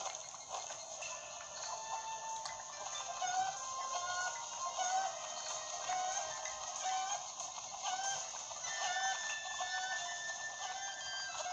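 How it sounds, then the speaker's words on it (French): A chicken in the video game Zelda Breath of the Wild gives soft scattered clucks beneath bright game ambience and music, no speech over it. "la poule elle s'est barrée"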